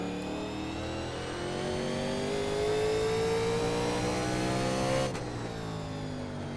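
Race car engine in the iRacing sim, a 1987 Legends car at Martinsville Speedway, revving hard under full throttle out of a corner; a loud, steady, rising drone that climbs in pitch before a sharp gear-change drop near the end.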